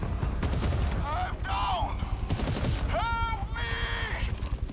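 Turret gunfire in the sci-fi shooter GTFO, a dense continuous burst of shots with electronic whines and sweeps layered on top, loud and steady for the whole stretch while several players talk over it.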